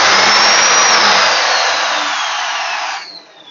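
Electric drill running at full speed on a drill bit sharpener spindle, a loud steady high whine with a slowly falling pitch for about three seconds before it cuts off and fades.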